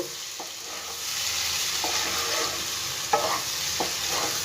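Egg keema is stirred with masala in a frying pan: a constant close hiss of sizzling oil, broken by a few light spatula scrapes and taps, with no voices.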